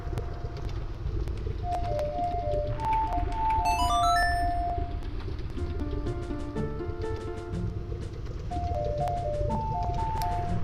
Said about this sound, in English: Listen to the Bolero of Fire.